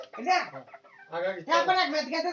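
A chicken clucks in short, close bursts, with a brief pause in the middle before more busy clucking.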